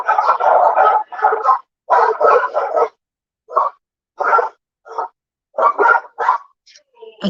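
Three dogs bark close by in a rapid run of sharp barks, then break into scattered single barks and short yips separated by silence.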